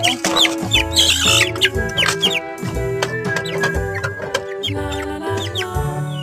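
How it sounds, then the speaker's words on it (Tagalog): Chickens clucking and squawking close by while being fed, over a backdrop of tonal music, with busy overlapping bird calls throughout. "pakain tayo ng manok"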